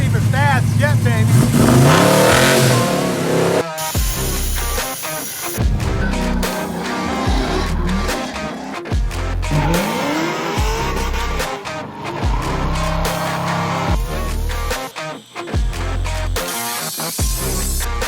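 A car engine revs hard in repeated rising bursts with squealing tires and skids between them, loud and close, with someone talking in places.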